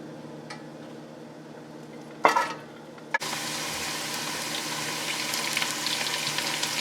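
Sliced onion dropped into hot oil in a pan for karhi chole, giving a sudden clatter and burst of sizzling that settles into steady, fairly loud frying with stirring, no voices.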